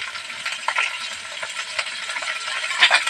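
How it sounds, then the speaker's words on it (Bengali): Spices in a pan on a village kitchen stove, turmeric and chili powder with tomato, sizzling and being scraped and stirred, close and continuous with bright metallic clinks of the spoon against the pan. "এবার মশলাকে ভালো করে কষিয়ে নেব"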